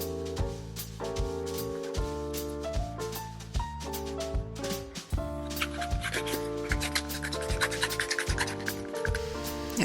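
Steady, rhythmic rasping strokes of sandpaper worked along the edges of a leather cardholder, repeated many times at an even pace under background music.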